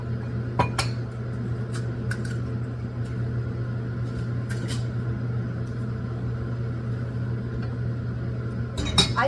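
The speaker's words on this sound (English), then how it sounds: "Just crack them in here." Eggs are cracked into a bowl for scrambled eggs, heard as a few sharp, isolated taps and clinks against the bowl. They sit over a constant low kitchen hum, with long quiet stretches between the cracks.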